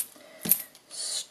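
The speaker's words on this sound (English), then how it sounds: "Scissors, always a good plan." Scissors cut paper strips for a handmade card: a short close snip followed by a brief soft rasp of blades sliding through paper, with no voices.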